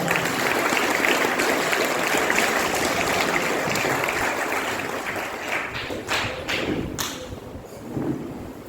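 A church congregation clapping during a Holy Mass service, a dense wash of applause that thins out toward the end, with a few thuds and scattered claps.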